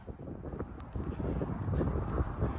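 Strong wind buffets the microphone in a steady low roar outside a 2020 Forest River Cardinal Luxury 3700FLX RV, rising slightly louder toward the end, with no talking.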